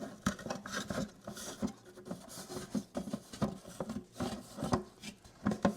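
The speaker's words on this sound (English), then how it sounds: "Our next layer is this 2-inch coarse foam. And we're just going to take this and cut it to width" A piece of 2-inch coarse aquarium filter foam is cut to width for a 10-gallon freshwater tank filter. Faint, close, irregular scratchy rubbing and snipping come in quick soft pulses.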